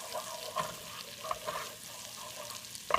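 Garlic sizzling in oil for a tarka, a soft steady crackle close by with a few light stirring clicks and a louder burst at the end.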